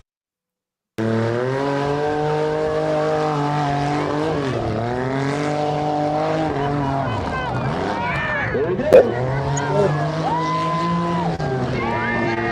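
A race truck engine buzzes deep and continuous through a run, heard from a distance with pitch sweeping up and down as it accelerates and shifts, with a sharp crack near the end.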